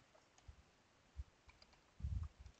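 Typing on a computer keyboard, faint scattered clicks and taps building to a brief cluster of keystrokes near the end, quiet and close.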